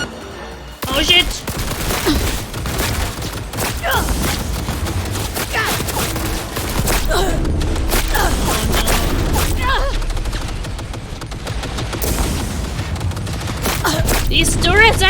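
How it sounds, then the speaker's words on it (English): Dense, sustained turret gunfire in Cyberpunk 2077, rapid volleys and bursts rattling almost nonstop at close range, with heavy booming impacts mixed in and a voice reacting over the shooting. "These turrets are shooting me through cover."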